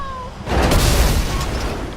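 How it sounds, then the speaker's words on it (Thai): In GTA Online, a car blows up after a tank rolls over it: one sudden, loud boom that trails off into a rumbling tail, with a voice talking in the background. "ทับแล้วมันก็ระเบิดเลยนะครับรถ"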